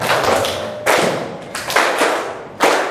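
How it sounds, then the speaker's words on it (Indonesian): A group at an elementary school claps together before singing: a few loud, close, thudding bursts of hands striking in rough unison, separated by short pauses. "kita tepuk bersama-sama dulu"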